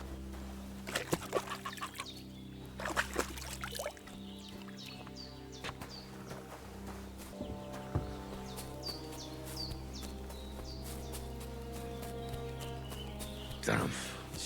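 Chickens clucking and flapping around a farmyard in Kingdom Come Deliverance 2, intermittent clucks and wing flutters with hoof-like clopping, set against a steady ambient hum.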